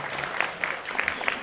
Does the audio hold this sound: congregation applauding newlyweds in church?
yes